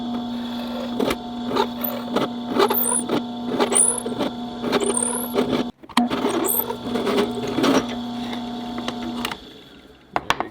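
A drill boring an off-center 1/4 inch hole through a wooden beam compass part, a steady whine with stuttering bursts as the bit cuts, loud and close, pausing briefly midway and then winding down.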